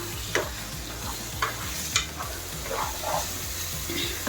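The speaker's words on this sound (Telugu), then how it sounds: "పుదీనా వేసి బాగా కలుపుకుందాము" Chicken fry with mint is stirred in a sizzling pan: a constant frying hiss up close, punctuated by several sharp scraping strokes of the spoon against the pan, no one speaking.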